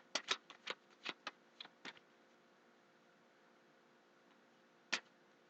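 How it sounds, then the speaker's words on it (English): Playing cards being shuffled by hand, a quick run of crisp riffling snaps close by in the first two seconds, then quiet and one last sharp flick near the end. "Did have a good shuffle."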